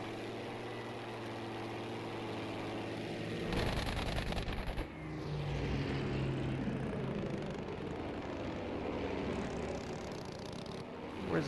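A propeller airplane engine in the video game Battlefield V drones steadily, then surges with a burst of throttle before settling back into a sustained hum, no voices present.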